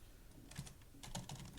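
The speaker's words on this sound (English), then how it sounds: "I'm just going to type" Quiet typing on a computer keyboard, a short close burst of soft key clicks in small clusters, with no talk.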